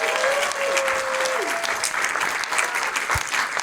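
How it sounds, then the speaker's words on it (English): Audience applause fills the room at the close of a live maker showcase evening, a dense, steady burst of clapping with a brief tonal whistle-like line early on, loud and sustained throughout. "Let's do one last round of applause for all the makers here."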